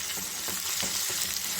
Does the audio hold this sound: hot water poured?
no